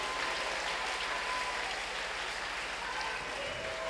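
A church congregation applauds in a continuous, even wash of clapping, moderately loud and sustained for the whole stretch without a break.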